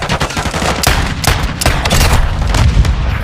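A .500 Magnum slug gun firing in Modern Warfare 2, heard as loud, close, sharp gunshot reports in quick succession amid the noisy clatter of gameplay.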